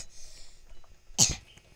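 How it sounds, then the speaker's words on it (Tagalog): A single sharp cough from a person during Roblox Brookhaven gameplay, brief and close, after a stretch of quiet background hiss. "Ubo muna ako."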